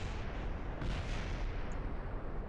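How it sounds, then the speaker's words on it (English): Rocket blowing apart in the game Kerbal Space Program, a loud, dense rumbling roar that swells around the middle and holds steady, broadband and booming. "Prepare to explode."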